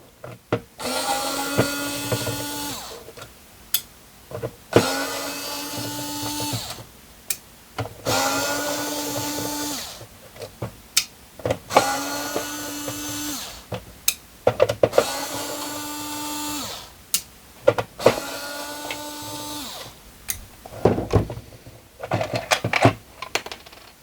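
A power screwdriver backs screws out of an RGB DMX disco light during a repair, making about six short rising whirs, each followed by sharp clicks and clatter, with brief gaps between them.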